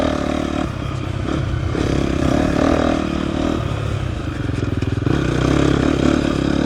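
A 2024 KTM 250 XCF dirt bike rides off-road over a rough trail into the trees, its engine droning and revving close by with changing pitch and some rattling clatter.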